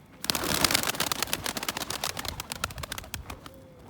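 Agitated pigeons beat their wings after a hawk attack, producing a rapid burst of flapping clatter that peaks early and then continues in fainter, uneven flurries.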